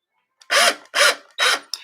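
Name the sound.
electric drill twisting jewelry wire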